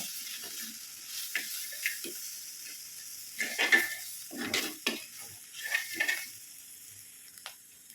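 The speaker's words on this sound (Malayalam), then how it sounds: "ഇതെല്ലാം കൂടെ ഒന്ന് മിക്സ് ചെയ്യും അരപ്പൊക്കെ ഒന്ന് മൂക്കട്ടെ" A ground spice paste for an onion curry is stirred and fried in a pan, giving irregular spoon scrapes and knocks over a faint background sizzle, with quiet gaps between strokes.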